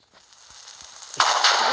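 A ghast fireball explodes in the Minecraft Nether, landing as a sudden loud crackling burst that follows a low, quiet stretch of game ambience with faint thumps.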